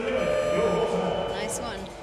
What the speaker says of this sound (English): The buzzer sounds to say 1 minute to go